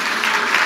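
An audience at a book promotion event claps, producing a dense, loud, steady burst of applause from start to finish.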